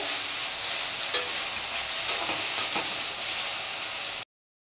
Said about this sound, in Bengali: খুব ভালো করে মশলাটা কষিয়ে নিতে হবে।